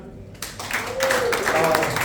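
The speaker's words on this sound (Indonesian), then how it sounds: "Tepuk tangan." A church audience breaking into applause in Wonosari, clapping that starts after a brief lull and swells to a steady, fairly loud patter, mixed with voices and laughter.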